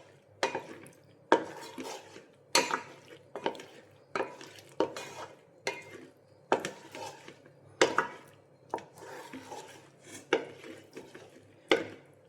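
A spoon stirs vegetable white pasta in a pan as a creamy sauce melts in, producing rhythmic scraping strokes about once a second, close and clear over an otherwise quiet kitchen.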